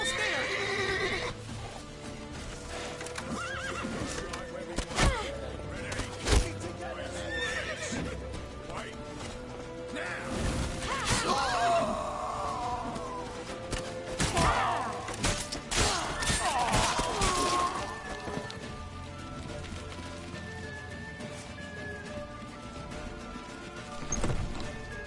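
Horses whinny repeatedly over rapid hoofbeats in The Witcher 3 video game, with thuds and crashes scattered through the action and voices shouting at times.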